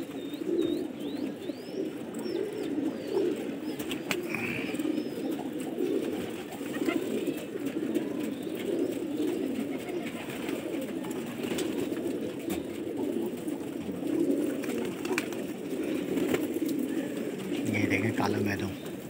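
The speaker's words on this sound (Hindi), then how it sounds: "लड़ते हुए कबूतर हैं" Flock of gola pigeons cooing at a pigeon-fighting gathering, a steady low murmuring coo chorus throughout with occasional chirps and faint background voices, continuous and moderately distant.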